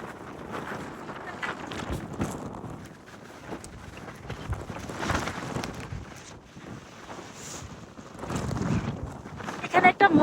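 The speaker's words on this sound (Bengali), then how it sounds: "এখানে প্রচুর পরিমাণে হাওয়া দিচ্ছে" Strong wind rushes across a hilltop, buffeting the microphone with a continuous, uneven roar that swells and gusts louder toward the end.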